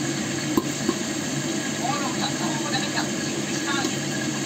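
Bangus (milkfish) frying in a pan, a steady hiss and crackle with a few sharp pops, under low background noise and faint voices nearby.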